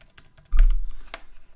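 Keys on a computer keyboard clatter in a short, close burst as a password is entered, with a few sharp taps and no talking.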